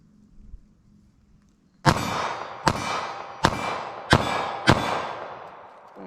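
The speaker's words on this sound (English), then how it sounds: "So I'm just gonna fire a few shots here with our 380 ACP." Five sharp gunshots from a .380 ACP pocket pistol firing Federal Hydra-Shok rounds, spaced roughly evenly about a second apart, each a loud close crack with a ringing tail, after a quiet start.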